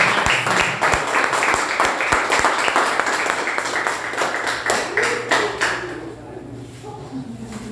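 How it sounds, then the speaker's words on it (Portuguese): A church congregation applauds together, a steady wash of clapping with some sharper individual claps that thins out and fades toward the end. "Dá uma salva de palmas para o Senhor"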